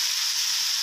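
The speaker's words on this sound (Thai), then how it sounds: "ผัดไปเรื่อยๆนะครับเพื่อนๆครับผม" Steady, close sizzling of pork being stir-fried in a hot pan, a continuous bright hiss with faint stirring underneath and no talking.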